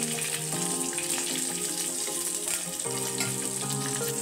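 Green chillies and black pepper fry in hot oil in a pan with a loud, continuous sizzle that crackles steadily throughout, with no voices.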